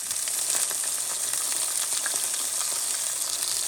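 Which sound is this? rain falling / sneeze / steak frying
steak frying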